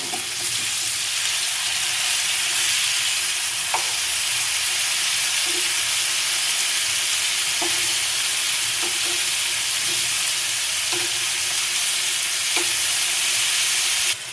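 Chicken pieces for butter chicken frying in a pan, a loud, unbroken sizzling hiss throughout with occasional faint clicks and pops, no voices.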